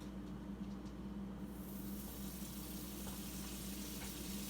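Butter melts in a hot frying pan while sandwiches are being made, giving a steady, soft sizzle that swells and brightens partway through and holds evenly to the end.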